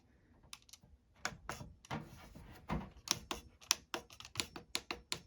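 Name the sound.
pressing buttons on a Chinese diesel heater controller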